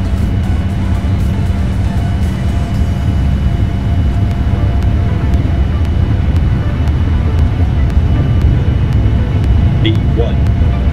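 Qualitywings 787-8 jet engines at takeoff thrust in Prepar3D roar as a steady, loud broadband rumble throughout, with a cockpit voice calling out briefly over it.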